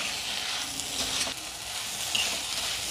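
Four or five mixer-ground chilies fry in a pan for prawn biryani, giving an even, close, hissing sizzle that holds steady throughout with slight swells.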